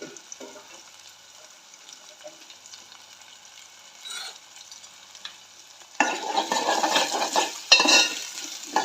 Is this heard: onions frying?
yes